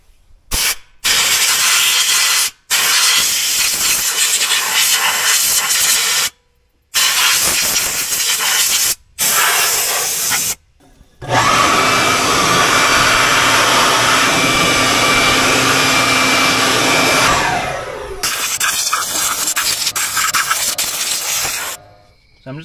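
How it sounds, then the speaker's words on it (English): Close, loud hissing bursts from an aerosol can of brake cleaner sprayed on parts of a 2004 Kawasaki Mule, several short blasts and pauses, then one long continuous spray. "I'm just going to use some brake clean and kind of clean some of these parts"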